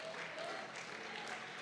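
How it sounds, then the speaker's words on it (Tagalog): Church congregation applauding, a dense, even patter of many hands clapping together, moderately distant and continuous through the brief moment. "Sige, palakpak sa Panginoon."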